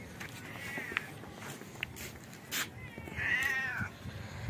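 Several cats meowing at close to middle distance, two distinct drawn-out meows spaced a few seconds apart over faint background noise and light rustling or footsteps.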